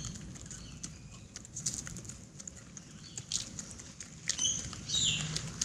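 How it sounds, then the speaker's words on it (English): Light rain starts to patter steadily outdoors near Sydney Harbour, a soft, continuous rustling that swells slightly toward the end, with high bird chirps scattered over it. "Here comes the rain again."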